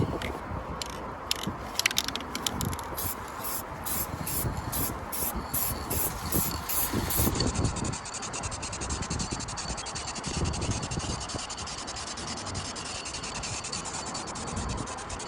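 Matte black spray paint going on as a first coat over a DIY paint repair: a steady, close hiss with short bursts in the first half, then one continuous spray, and no talk.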